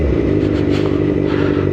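Loud motorcycle exhaust rumbling steadily while riding through Birmingham city centre, a continuous close engine drone with rattly overtones and slight surges throughout, no talking.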